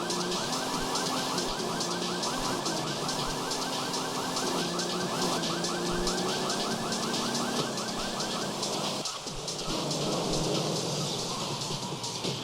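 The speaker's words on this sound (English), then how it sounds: "His car alarm better not cause trouble." Repeating car alarm in the video game GTA III, a steady cycling electronic siren pattern sounding continuously at moderate level with game background noise, cutting off briefly near the end.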